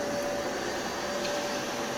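A Bissell PowerWash HydroSteam floor cleaner running with a steady, even whirring hum and no breaks.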